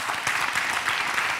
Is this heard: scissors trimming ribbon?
no